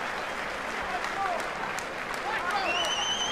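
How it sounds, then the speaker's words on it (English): An arena crowd at a boxing match applauds steadily after a fight, a broad wash of clapping and cheering with a few whistles rising over it near the end. "And well-deserved applause throughout this arena."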